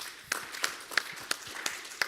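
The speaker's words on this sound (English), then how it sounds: "A round of applause to you." Audience applause in a meeting hall at a trade union conference, heard as a thin, quiet patter of scattered claps with regular sharper peaks, fairly distant and brief.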